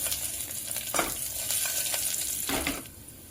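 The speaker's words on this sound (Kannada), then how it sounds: "ಈಗ ಮಸಾಲೆಗಳನ್ನು ಹಾಕೊಂಡ್ಬಿಡ್ತೀನಿ" Whole spices such as bay leaf, cinnamon, cloves, cardamom and peppercorns going into hot oil, a steady close sizzle with a few louder bursts and scraping stirs, fairly quiet overall.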